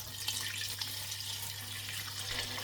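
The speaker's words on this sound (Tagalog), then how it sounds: "Lagyan natin ng tubig." Water pours steadily from a tap into a 7-quart cooking pot for tom yum seafood soup, a continuous soft rushing splash heard alone.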